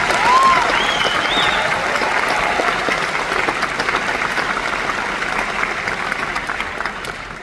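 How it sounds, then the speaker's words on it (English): An audience at a high school graduation applauds for parents and guardians, a broad, steady wash of clapping from a large crowd that holds evenly and tapers slightly, with a faint whistle near the start. "if we get another round of applause for the parents and guardians here today"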